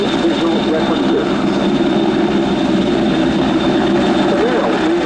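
A Leonardo AW101 Merlin helicopter of the Portuguese Air Force flies a display at RIAT 2025, its loud, steady rotor and turbine roar filling the air continuously under commentary.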